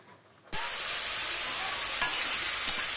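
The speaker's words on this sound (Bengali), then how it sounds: "তো কড়াইয়ে দিয়ে দিয়েছি ঝিঙে" Ridge gourd hits a hot wok and bursts into loud, steady sizzling frying that runs on without a break, with a faint scrape of stirring.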